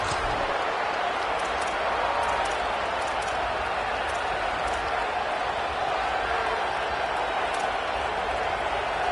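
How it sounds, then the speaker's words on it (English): Crowd roar inside a football video game's stadium, a steady loud wash of cheering and noise that runs the whole time, with no clear separate sounds. "This place is roaring, and it's going to be so hard to operate under these conditions."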